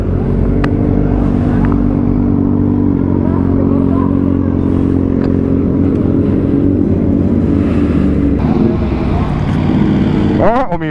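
Heavy old motorcycle engine idling and revving on a Sunday morning group ride, a loud, steady low rumble that continues throughout and climbs into a sharp rev near the end, with voices talking faintly underneath.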